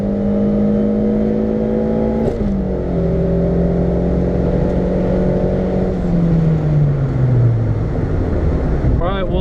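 A stock LS-swapped EF hatch makes a quarter-mile pass at CMI with its clutch slipping. The engine drones loud and close from inside the car, its pitch dropping at two shifts and then sagging under strong wind noise.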